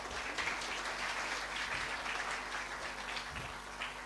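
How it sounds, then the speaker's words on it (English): Sustained applause from an audience at a developer conference talk on Flutter, a dense, even patter of many hands clapping throughout, fairly distant, with no speech over it. "Now you're clapping very hard"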